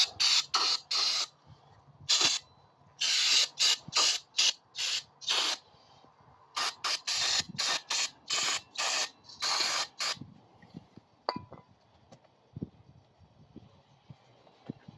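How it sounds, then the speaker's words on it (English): Repeated short bursts of aerosol spray on a Coleman BT200X rear axle, hissing in quick pulses with brief gaps, fairly close, then quieter scraping and handling noises toward the end. "Give her a quick spray job."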